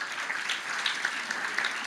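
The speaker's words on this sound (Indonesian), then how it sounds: "Kasih tepuk tangan buat Tuhan." A congregation at a Christmas church service claps together, a dense, steady wash of applause from many hands throughout, with no voice over it.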